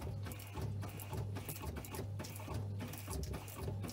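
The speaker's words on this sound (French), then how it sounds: "On entend toujours l'électrovanne se mettre en action." A dishwasher or washing machine solenoid valve clicks on and off in a fast, steady, rattling pulse over a low mechanical hum in household plumbing, continuous and fairly close.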